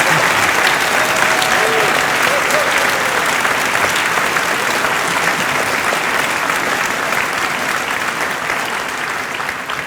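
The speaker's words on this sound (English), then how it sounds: "I would like to ask you to give a big applause to the 4 existing." A crowd at a space conference panel gives loud, sustained applause for a group of astronauts, a thick, even wash of many hands clapping for about ten seconds without letting up.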